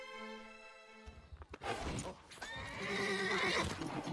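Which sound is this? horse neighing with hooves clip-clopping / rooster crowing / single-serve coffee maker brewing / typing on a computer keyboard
horse neighing with hooves clip-clopping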